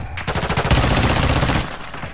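A full-auto pistol fires in the Modern Warfare 2 beta, a close, loud rapid burst of evenly spaced shots that runs for well over a second before cutting off.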